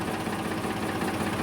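A tractor engine idles and chugs steadily in a groundnut field, a constant low mechanical rumble with a faint knocking beat, close and uninterrupted.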